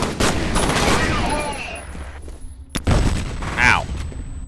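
Burst rifle fire in a shooter video game comes as loud, close rapid volleys with booming impacts and a sharp break in the middle, and voices are heard over it.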